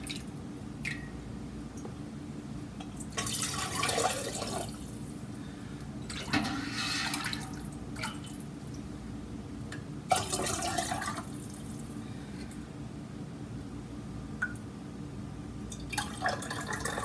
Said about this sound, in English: So let's fill up another jar.